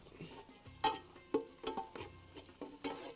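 Oil frying onions in a pan for meat mandi, with several sharp bursts of sizzle and spatter over a steady low crackle, alternating with stirring scrapes.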